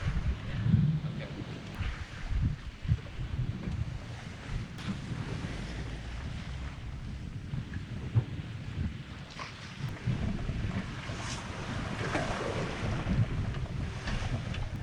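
A sailboat heeled on a tack at sea, with wind buffeting the microphone and a continuous rush of water and waves along the hull, loud and unbroken throughout.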